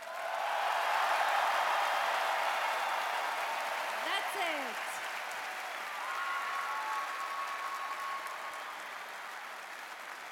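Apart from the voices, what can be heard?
audience applause in Vienna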